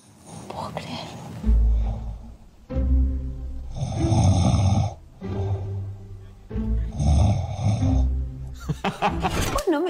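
A person imitates snoring in several loud, rasping breath cycles with short gaps between them, close to the microphone, with hushed voices around the snores.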